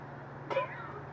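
A person imitating a cat's meow during a live stream: one short, close vocal meow that rises briefly above a low, steady background hum.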